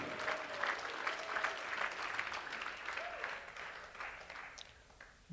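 A church congregation claps hands in praise during a worship service, a dense, steady and slightly rhythmic wash of clapping from many people that holds at an even, fairly loud level throughout.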